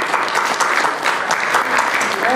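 Audience applause at a presentation on the digital and documentary archive of the Tunisian revolution: steady, dense clapping from a room full of people, loud and sustained throughout.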